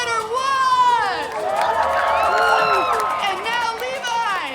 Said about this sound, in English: the crowd is going absolutely wild